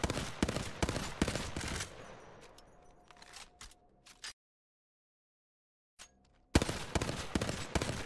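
Hemlock rifle spraying in Apex Legends, a dense rapid string of loud close shots that tapers off into a short silence before another burst of firing resumes.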